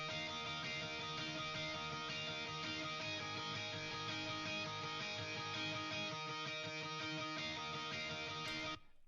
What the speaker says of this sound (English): I decided to add some sus2 and 7th hammer-ons throughout